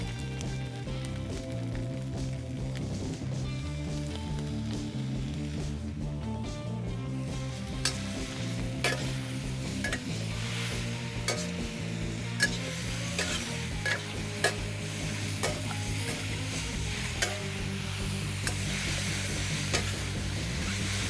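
Char kway teow noodles with chili paste and sauce are stir-fried in a wok, giving a steady sizzle with repeated scraping and clinking of a metal wok turner and spoon. Background music plays underneath throughout.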